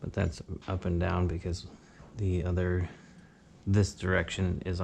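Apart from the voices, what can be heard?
No everyday noises stand out.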